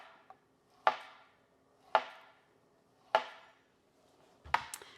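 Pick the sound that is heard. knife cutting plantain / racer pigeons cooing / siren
knife cutting plantain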